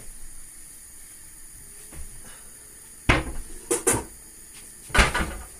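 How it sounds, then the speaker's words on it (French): A lid is set onto a pot of boiling rice, making a few sharp metallic clanks and clatters in quick succession against a steady background hiss. "c'est le moment de mettre un couvercle"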